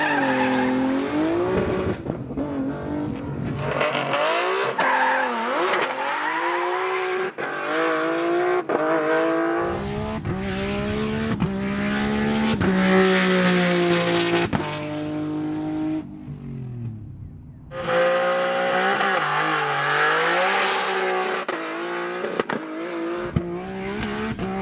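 A GT-R race car with an Albin 6-speed sequential gearbox, a manual GT-R street car at the 2020 GT-R Challenge, revs hard and loud through repeated rising pulls, with sharp breaks at each gear change and brief tire squeal.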